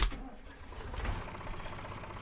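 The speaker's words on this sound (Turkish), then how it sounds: "Ama önce marşa basalım." A Türk Fiat 640 tractor engine cranks and catches, settling into a low, rapid, chugging idle close by.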